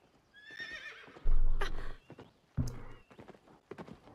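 A horse whinnies in the Zelda Breath of the Wild video game, a loud close neigh followed by heavy thudding hooves and footsteps, then a second snort and thumps.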